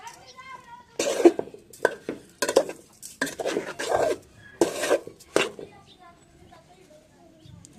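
Grated coconut filling being mixed with sugar and salt in a pot for coconut milk puli pitha, with irregular clinks and scraping of a spoon against metal, heard in bursts alongside faint voices.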